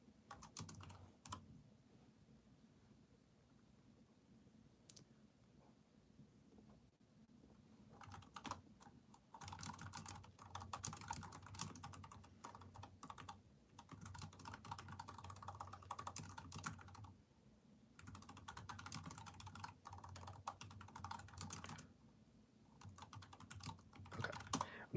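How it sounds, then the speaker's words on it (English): Steady computer keyboard typing, a run of quick soft key clicks with brief pauses, close by and moderately quiet, no talking. "I'm just typing in some notes here"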